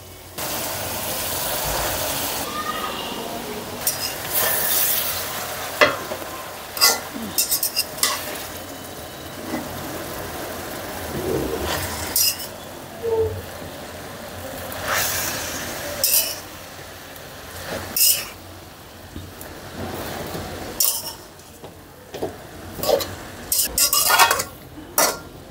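Utensil scraping and clinking against a pan as bathua greens are stirred together with shrimp, in irregular bursts of clatter with quieter gaps between them over a faint cooking background.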